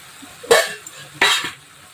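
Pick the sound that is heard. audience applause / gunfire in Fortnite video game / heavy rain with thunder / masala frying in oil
masala frying in oil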